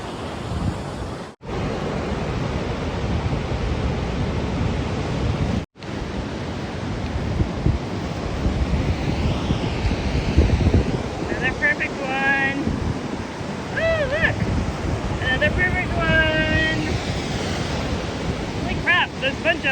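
Ocean surf rolls onto an empty Oregon Coast beach in a continuous broad wash, with heavy wind buffeting the microphone and brief higher-pitched calls partway through.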